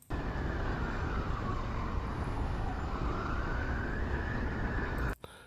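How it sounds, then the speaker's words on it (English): Emergency vehicle siren isolated by AI sound separation, with traffic and other noise removed: a loud, continuous wailing tone rises and falls slowly for about five seconds, alone, then cuts off abruptly. "only the siren noise is there, not even the traffic noise"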